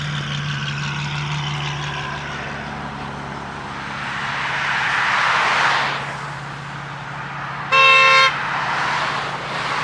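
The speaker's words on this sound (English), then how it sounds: "I don't know why she would honk." A single short, loud car horn honk sounds near the end of a street scene during a hypercar drive in Southern California, following a long swell of passing engine and road noise.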